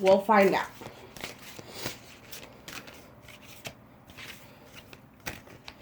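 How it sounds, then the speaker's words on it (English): Brief riffling of a tarot deck at the start, followed by soft sliding and tapping of cards under quiet talk. "I'm just shuffling the deck right now"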